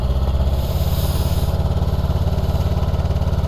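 A Honda Rebel 500 cruiser motorcycle engine runs close by with a steady, loud, low throbbing idle. The pulse holds an even rhythm throughout, with a slight shift early on.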